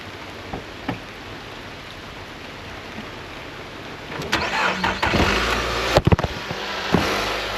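A car engine idles steadily to charge a weak battery through the alternator, a low continuous rumble that grows louder and rougher partway through, with a few brief knocks near the end.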